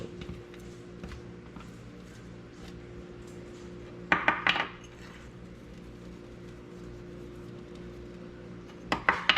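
Venison loin flipped in a pan: a faint continuous sizzle broken by two short clattering bursts of metal utensil against cookware, close but quiet.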